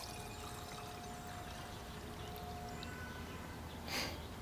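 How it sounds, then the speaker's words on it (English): 99% isopropyl alcohol pours in a faint, steady trickle for making homemade hand sanitizer, under a quiet hiss of background noise, with a brief louder splash near the end. "Pour that in."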